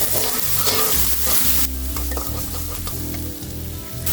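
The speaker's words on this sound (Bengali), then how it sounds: "এখন আমি এটাকে নাড়ব। একদম ব্রাউন কালার করে ফেলতে হবে, আমরা যেভাবে বেরেস্তা করি ওরকম করতে হবে।" Chopped onions frying until brown for beef nihari, stirred in a pan: loud, close crackling sizzle with repeated scraping strokes, the hiss easing partway through.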